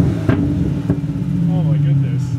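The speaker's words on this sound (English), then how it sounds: "if I give it a couple of little blips." A V12 BMW 7 Series engine idles with a steady low hum, broken by two sharp throttle blips that rise and fall quickly. A voice talks over the engine.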